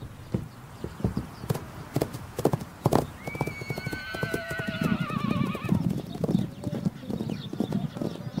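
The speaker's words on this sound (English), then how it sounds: "the horses arrived at a nature reserve established in their honor." Wild Takhi horses on a nature reserve clip-clop with repeated hoofbeats while one gives a loud, wavering neigh midway, set against a soft outdoor background.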